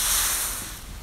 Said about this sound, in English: When I see the tonal contrast is extra, I can use the spray